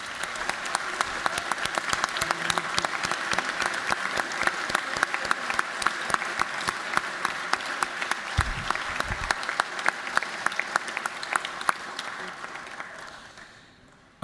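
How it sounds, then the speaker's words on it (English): Sustained applause from an audience in the Georgia House chamber during a legislative session, a dense steady clatter of many hands clapping that holds for several seconds and then thins and tapers off toward the end. "Let's give these guys a round of applause."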